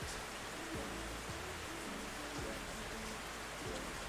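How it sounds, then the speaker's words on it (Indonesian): Steady rain falls in a constant wash of noise with no clear gaps, fairly loud and close throughout, while a low tonal background murmurs faintly underneath. "Lagi hujan coy."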